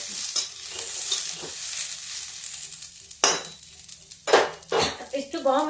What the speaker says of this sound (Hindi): और ये मटर थोड़ा इसमें फ्राई करते।